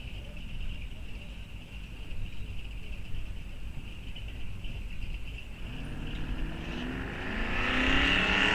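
Drag race cars including a Mustang GT launching at a bracket race at Rock Falls Raceway, engines idling low and steady before a rising, revving roar swells loud near the end.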